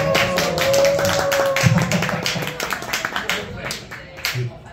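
Dense applause and cheering from an audience at a live acoustic guitar performance, a steady wash of clapping with a lingering sung or instrumental tone beneath it and a brief thud near the end.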